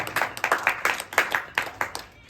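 Audience clapping in a Hindi talk on pranayama and yoga, a short burst of applause from a modest crowd with uneven individual claps, close and fairly loud, fading out after a couple of seconds.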